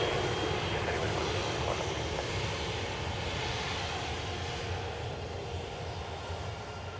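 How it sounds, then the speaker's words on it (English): An Aer Lingus Airbus A320 from Brussels lands at Dublin Airport, its engines a broad steady roar heard from a distance, slowly fading over several seconds with no talking. "We have Aer Lingus from Brussels, A320 about to touch on."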